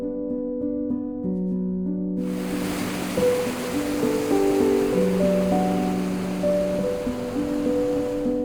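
Winter waterfalls in the Carneddau make a steady, loud broadband rush. It enters abruptly after a couple of seconds and runs beneath a sustained musical drone.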